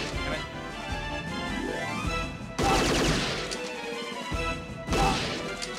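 Gunfire in the Policenauts video game rings out in loud, crashing bursts and rapid volleys, with heavy impacts cutting in abruptly over a continuous game soundtrack.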